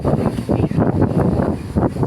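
Low, rumbling wind at a beach in Muscat, Oman, buffets the microphone in uneven gusts throughout, a steady blustery noise with no voices.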